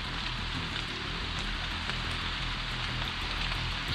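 Very heavy rain pours steadily in a tropical outdoor setting, a dense, loud, unbroken hiss of water hammering down with no voices.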